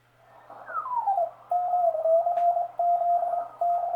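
A homebuilt 30 meter transceiver's receiver is tuned across and onto a station: a whistling tone sweeps downward and then settles into a steady beep keyed on and off in short bursts over faint hiss.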